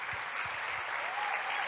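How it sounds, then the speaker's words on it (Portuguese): A church congregation claps for its leaders during a service, a brief, even wash of applause heard at moderate distance. "uma salva de palmas de Jesus pelos nossos líderes"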